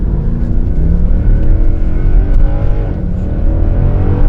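A Mercedes C63 AMG accelerates hard, its engine roaring loud and close with a steady rising drone that holds throughout.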